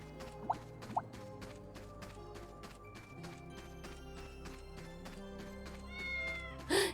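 Cats in the video game Fantasian let out two short, quiet meows near the start and another near the end, over soft game music and rhythmic footstep-like ticks.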